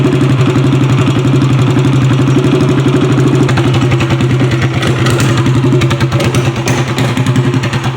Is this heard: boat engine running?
yes